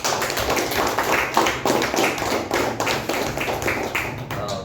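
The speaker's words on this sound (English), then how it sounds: "let us give him a wonderful round of applause" Steady applause from a club meeting audience, dense clapping that holds for several seconds without any talking over it.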